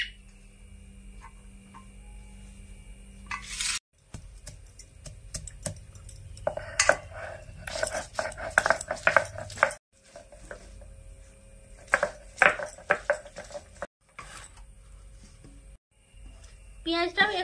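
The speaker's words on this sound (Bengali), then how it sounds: "এবারে রসুন আদাটা ছিঁচে নিচ্ছি।" Garlic and ginger being pounded in a village kitchen for a Bengali catfish curry, with irregular sharp knocks and scraping clusters, close and moderately loud, under a voice talking.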